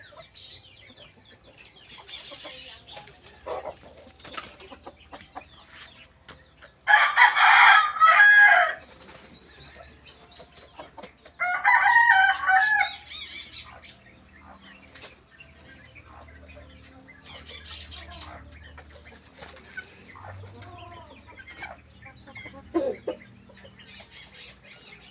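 Kept birds call near the listener, with several loud, crowing-like bursts and scattered clucks and squawks spread over the stretch. Quieter rustling fills the gaps.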